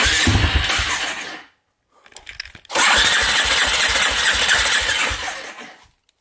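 A Polaris Predator ATV with a freshly cleaned carburetor, new petcock and new fuel line cranks and catches, its engine running loud and close in two bursts separated by a short sputtering pause.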